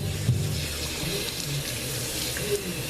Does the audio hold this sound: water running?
yes